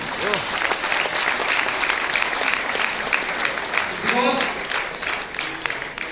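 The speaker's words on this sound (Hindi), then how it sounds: "एक बार प्रणाम करके लिए जोरदार तालियां हो जाए।" Loud crowd applause, dense clapping from many hands that continues steadily throughout.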